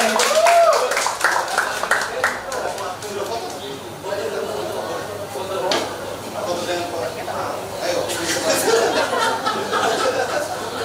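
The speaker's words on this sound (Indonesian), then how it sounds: "Sekali lagi beri aplaus untuk Mas Ramsy dan Bunga" A talk show audience applauds its guests, a brisk patter of many hands clapping with scattered chuckles and some voices mixed in across the stretch.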